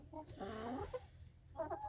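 Chickens cluck in short bursts with a small Calico rooster's cackle among them, fairly quiet with faint background noise throughout, in the morning.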